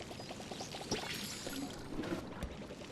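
Watering can pouring water onto crops in the farming game Palia, a soft steady trickle with small splashy bursts, faint and close, with no talking.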